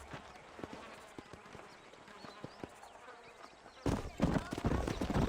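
Horses gallop in the Red Dead Redemption video game, a steady run of hoof clip-clops at a moderate distance that grows louder and busier toward the end.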